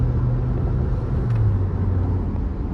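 A Tata Sierra SUV engine drones under full throttle in sport mode, a steady low rumble from inside the cabin, with the tone shifting slightly partway through as it pulls.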